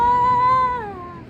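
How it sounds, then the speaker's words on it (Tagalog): A cat gives one long, loud, drawn-out meow close by, holding steady before bending downward and fading at the end. "there's a mommy cat there"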